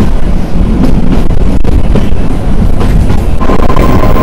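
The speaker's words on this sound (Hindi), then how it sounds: "जब ये ट्रेन मुड़ती है ज़्यादा तो एक चू चू की आवाज़ बहुत ज़्यादा आती है" Steady, loud rumble of the Shimla mountain toy train riding through a curve in the Himalayan hills, with wheel clatter and a thin high squeal emerging near the end, close and continuous.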